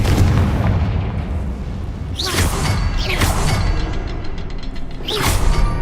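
Blasting spell explosions from Hogwarts Legacy go off in a combat scene, loud booming bursts with sharp whooshing cracks, several blasts in a few seconds over dense rumbling game noise.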